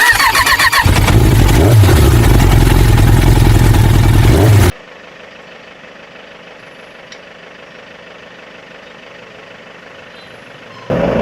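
A motorcycle engine runs loud and close for several seconds, then cuts off abruptly into quiet background hum before briefly starting up again at the end.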